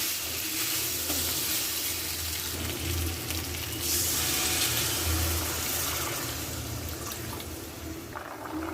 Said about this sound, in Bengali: দেখুন ঝোলটা ফুটতে শুরু করেছে